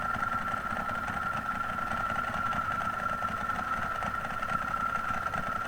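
Ducati Monster motorcycle engine idling with its dry clutch rattling and an unbaffled Termignoni exhaust, just after an oil change, a steady close and loud drone with no speech.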